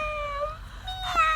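A cat meows twice close by indoors, a short drawn-out tonal cry followed by a second rising meow, alone without talk.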